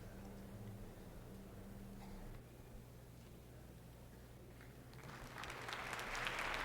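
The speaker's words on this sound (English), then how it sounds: "The applause you hear welcomes our conductor" Audience applause at a live orchestral concert in Philadelphia's Academy of Music, welcoming the conductor Eugene Ormandy to the stage in 1963; faint, distant clapping that swells steadily over the last couple of seconds.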